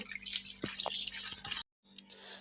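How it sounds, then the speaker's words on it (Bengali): Snakehead murrel fish being washed under water: faint trickling and dripping with small splashes, quiet and close, briefly cutting out near the end. "মাছগুলো আমি এইভাবে করে পরিষ্কার করে ধুয়ে নেব"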